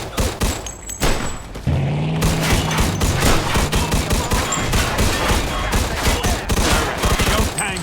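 Rapid bursts of gunfire fill a Mafia 2 shootout, dense overlapping shots and thumps rattling continuously at close range, with brief shouted voices mixed in.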